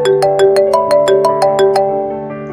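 A phone ringtone plays a bright, repeating melodic pattern of quick chiming notes, loud and close, with no voices, fading slightly toward the end.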